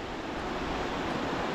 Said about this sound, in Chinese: 旁边就是桑曲河水